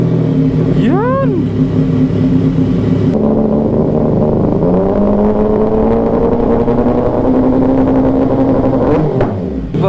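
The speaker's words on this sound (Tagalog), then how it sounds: "sound check natin mga men. Ara pipe. Nakakabit dito sa 675 NK." A CFMOTO 675NK motorcycle fitted with a new Ara pipe exhaust, revving sharply at first, then holding a loud, steady idle-to-mid rumble close by before a final crackling blip, with voices talking over it.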